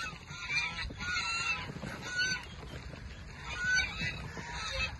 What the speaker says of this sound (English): The guineas are moving out of the brooder.